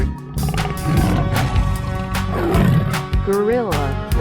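A tiger in a 3D animal sliding game lets out a loud, rumbling roar lasting several seconds, mixed with upbeat game sounds and people talking over it.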